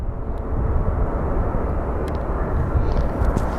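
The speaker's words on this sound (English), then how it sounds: "the Southwest that is coming in looks like he may be headed for runway 25 right" A Southwest airliner coming in to land on runway 25 right at Phoenix Sky Harbor airport gives a steady, broad low engine roar that holds at an even level for several seconds, with no voices over it.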